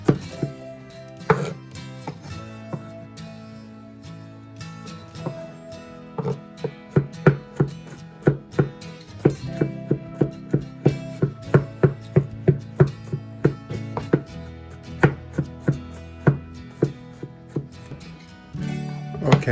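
Knife rapidly mincing peeled garlic cloves on a cutting board, a dense run of close, crisp chopping taps in steady bursts, with no talking.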